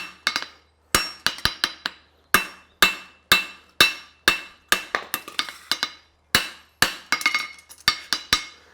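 A hammer rings sharply on an anvil, finishing the heel of a forged horseshoe in quick clusters of bright metallic blows separated by brief pauses, close and loud, with no talk.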